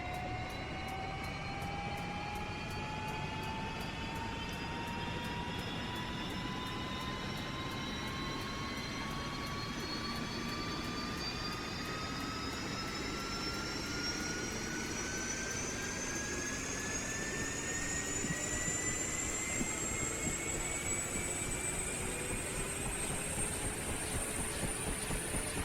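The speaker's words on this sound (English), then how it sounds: "see if we can get a good engine start here." A UH-1 Huey helicopter engine spins up in a flight-simulator game, a continuous turbine whine with several tones sliding steadily upward in pitch as it gathers speed, heard alone throughout.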